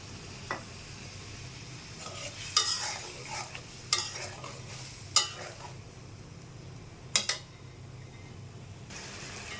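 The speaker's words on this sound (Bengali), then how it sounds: "এখন মশলাটা এর সঙ্গে আলুর সঙ্গে ভুনে নেব।" Spices and potatoes frying together in a pan while cooking rui fish with potatoes, a faint steady sizzle with a few sharp stirring scrapes and clatters, no talking.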